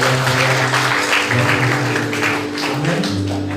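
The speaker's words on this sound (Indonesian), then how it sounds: "Kita berikan tepuk tangan." A church congregation breaks into applause at a worship service, a dense, steady wash of many hands clapping close by, with a sustained musical tone running beneath it.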